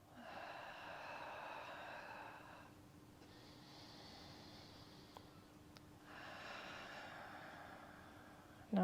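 A slow, deep breath during a yin yoga stretch, heard as long, airy, close breaths of a few seconds each, separated by short quiet pauses, with no speech.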